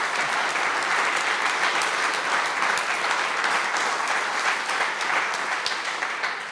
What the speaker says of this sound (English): let's give Ron one more round of applause